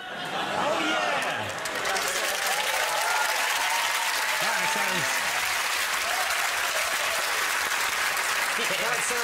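A panel-show studio audience claps and cheers in a sustained, loud wave of applause, with voices and excited chatter mixed in under the clapping throughout.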